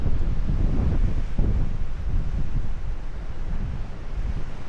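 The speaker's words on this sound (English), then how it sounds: "holy hell is it windy at the moment. It's literally gusting." Strong wind on an exposed hilltop hiking trail buffets the microphone in a constant low roar, surging in gusts with no other sounds.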